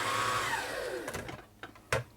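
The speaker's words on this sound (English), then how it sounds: "Bobbin winder's working there." The bobbin winder on a Janome Combi sewing machine and serger runs with a whirring motor whine that winds down over about a second, followed by a few soft clicks and knocks.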